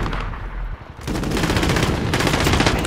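Rapid automatic gunfire in Call of Duty: Modern Warfare on the Shoot House map. A loud close burst breaks off for a moment, then resumes in dense sustained volleys.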